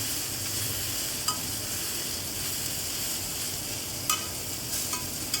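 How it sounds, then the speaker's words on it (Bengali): Drumstick leaves cook down in a pan with a constant close sizzling hiss, broken by a few sharp spatula scrapes and taps as they are turned, without any talking. "আবারও খুন্তির সাহায্যে ভালো করে নেড়ে চেড়ে নিচ্ছি।"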